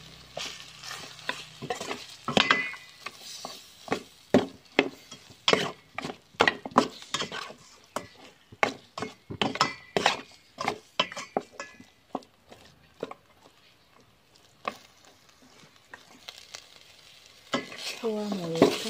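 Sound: stir-frying pork ribs with curry paste

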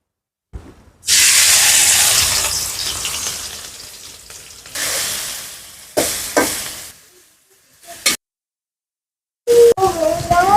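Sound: fish (small shrimp) frying as oil is added

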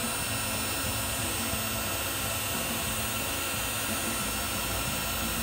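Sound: Looft Lighter electric hot-air charcoal starter blowing

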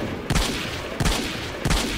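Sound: gauss gun firing in video game S.T.A.L.K.E.R. Lost Alpha

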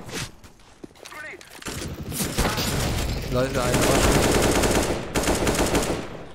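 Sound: decoy grenade imitating gunfire in Counter-Strike: Global Offensive video game

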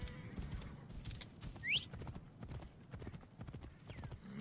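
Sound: horse hooves clip-clopping while riding in Assassin's Creed Origins video game

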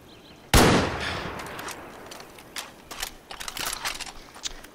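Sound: gunshots shooting ducks in Far Cry New Dawn video game

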